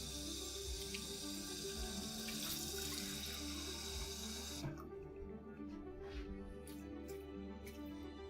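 A kitchen tap runs at full flow, a steady rushing splash that drops off partway through to a quieter trickle and a few drips.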